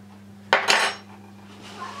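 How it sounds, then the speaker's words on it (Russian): A utensil clinks and scrapes against a bowl in two quick, close bursts as flour and baking powder are mixed, over a steady low background hum. "вымешаем муку с разрыхлителем, чтобы все хорошо соединилось"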